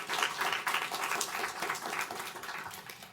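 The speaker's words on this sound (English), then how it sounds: "let's get a round of applause to welcome our guests today" A panel discussion audience claps to welcome guests, brisk and full applause from a roomful of people, close and continuous for a few seconds.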